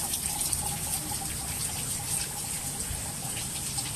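Low-pressure water from a garden hose spouts out of a car engine's coolant openings during a radiator and hose replacement, a continuous splashing, hissing gush that stays steady and close for the whole stretch.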